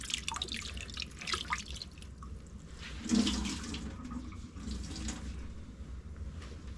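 Water drips and trickles inside a water cooler tank being drained after cleaning, with irregular splashing and a slightly louder gush midway, no one speaking.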